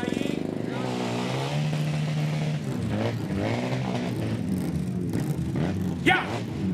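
A custom BMW motorcycle from VTR Customs arrives on the race track at Glemseck 2018, its engine revving loudly and rising in pitch with steady harmonic drone, while a voice talks over it.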